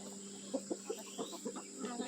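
Backyard chickens clucking close by in soft, irregular bursts, a handful of short murmuring clucks spread across the moment at low level.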